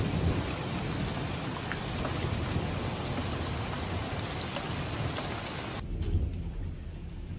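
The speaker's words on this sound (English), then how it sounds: "I'm like so happy because it's raining. but then it's hailing." Rain mixed with hail falls steadily outdoors at a farmers' market, a dense, even patter that holds for several seconds before abruptly dropping away near the end.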